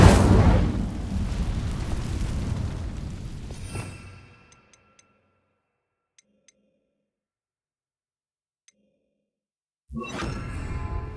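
An Incendio fire spell in Hogwarts Legacy igniting dry vines: a loud whooshing burst of flame that roars for about four seconds, fades into near silence with a few faint ticks, then a fresh rush of noise returns.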